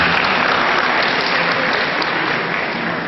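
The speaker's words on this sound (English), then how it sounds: "So give them a round of applause" Audience at an academic chemistry conference applauding the participants after their presentations, a dense, loud, even burst of clapping from many hands that holds steady for about three seconds.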